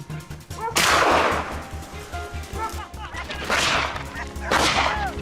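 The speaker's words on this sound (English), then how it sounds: "I fired. The shot rang out sharp and clear" Gunfire during a wild boar hunt in Germany: several sharp, loud broadband blasts with ringing tails land over a steady rhythmic music bed.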